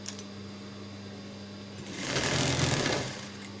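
A sewing machine stitches the fall onto a saree hem, starting with a low motor hum and then breaking into a brief, steady, close whir of rapid stitching about a second and a half long.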